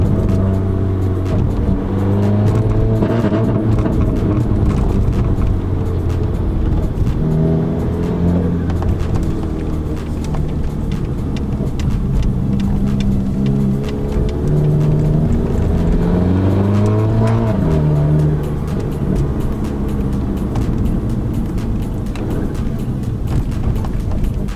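A Volkswagen Polo GTI (AW generation), its engine still slightly cold, revs up and down as it downshifts with the paddle shifters. The engine note is loud and steady, rising and falling in several swells with no talking.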